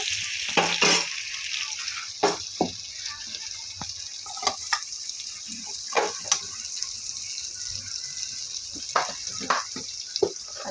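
Roasted chicken mixed with ginger garlic paste is stirred in a hot pan, with a steady sizzle of frying under repeated sharp scraping strokes of a spoon.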